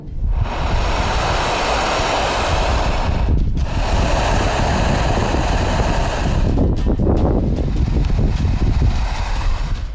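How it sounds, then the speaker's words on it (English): Loud, constant wind roars and rushes through a construction tunnel for a pipe, with brief dips and a faint whistling flutter toward the end. "this is actually just wind rushing through some kind of construction tunnel for a pipe"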